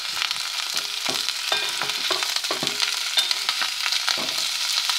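Chicken pieces turning golden in a hot pan, a loud, continuous crackling sizzle with spitting pops and occasional scraping stirs, close up with no voices.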